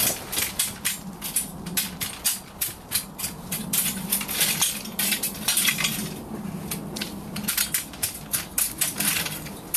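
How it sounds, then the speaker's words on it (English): A garden rake breaks up clumps of soil, with a close run of scraping, gritty strokes and small crunches repeating in an uneven rhythm and no talking. "I'm going to just take the rake and break up some of these clumps of soil"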